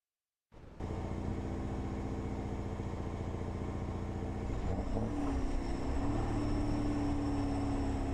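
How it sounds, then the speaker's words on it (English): A Cummins diesel engine on a vehicle in a future-warfare video game drones steadily and loudly for about seven seconds after a sudden start, with a rising whine and a tonal shift partway through. "I like the Cummins engine sound that they chose for that"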